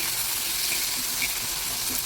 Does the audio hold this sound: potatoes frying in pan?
yes